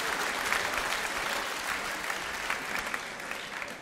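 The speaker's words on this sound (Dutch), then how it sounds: "Dat je nog net daarom klapt" Steady audience applause at a live comedy show, a dense crowd clapping evenly and loudly throughout with no pause.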